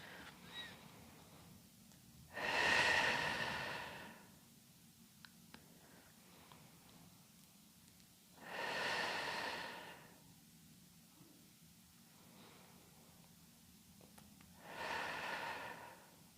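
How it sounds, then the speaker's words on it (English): Three slow, deep breaths during a Pilates glute and hip stretch, each a long airy rush in through the nose and out through the mouth, spaced several seconds apart with quiet between, close and fairly soft. "Nice big breaths in through the nose out through the mouth"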